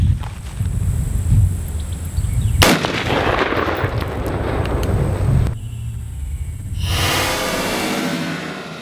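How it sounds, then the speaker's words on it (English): A single loud rifle shot from a 7.5-inch AR-15 firing a 55 grain Gold Dot round at a water jug about 10 yards away, a sharp blast bursting the jug, followed by rumbling echo and splashing debris. "So first shot, 55 grain gold dot from I think 10 yards away."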